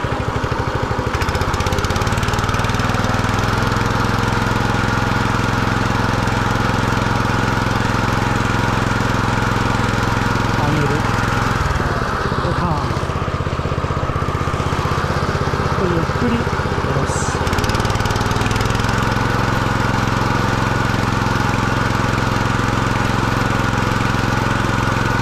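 A greens mower cutting a golf course putting green drones loudly and continuously, its engine steady and close throughout, with a brief dip and shift in tone as it turns midway.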